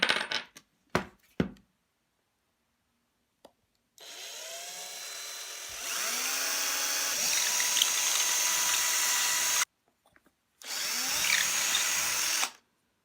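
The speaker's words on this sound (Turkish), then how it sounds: "Matkap yardımı ile bu tahta parçamı tam ortasından karşıdan karşıya olacak şekilde deleceğim." An electric drill whirs in two sustained bursts, boring through a piece of wood, preceded by a few sharp clicks and knocks.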